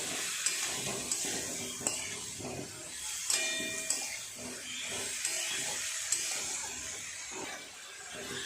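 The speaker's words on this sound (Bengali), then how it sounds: "খুব ভালো করে মশলার সাথে কপি আলু একটু কষিয়ে নেব।" Cauliflower and potatoes frying with turmeric, chilli, coriander-cumin powder, paste and salt, a steady low sizzle and hiss broken by soft periodic stirring clinks of a spoon against the pan, fairly quiet and close.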